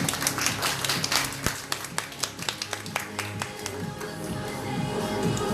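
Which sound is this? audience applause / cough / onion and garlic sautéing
audience applause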